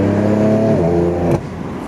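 BMW F82 M4 fitted with a Dinan valved exhaust and midpipes, giving a loud, close exhaust drone under acceleration that drops in pitch with a shift and settles lower, with no talking.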